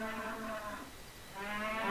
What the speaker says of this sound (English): They're noisy cows.